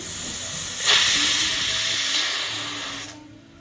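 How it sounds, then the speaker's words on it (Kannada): A pressure cooker with wheat inside vents steam in one loud, steady hiss lasting about two seconds before it cuts off, with quieter kitchen hum around it. "ಈಗ ಕುಕ್ಕರ್ ಮುಚ್ಚಿಡಬೇಕು ಹಾಗೆ ಏಳರಿಂದ ಎಂಟು ಸೀಟಿ ಬರೋ ತನಕ ಬೇಯಿಸಬೇಕು"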